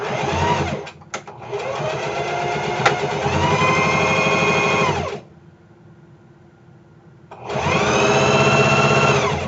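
A serger sews a straight side seam on a dress with a loud, close, steady whirring stitch. It runs for about five seconds, pauses for two, then starts again.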